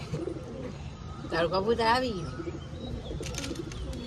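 A caught red high-flyer pigeon coos in low throaty bursts, close by, mixed with brief chirps and someone speaking partway through.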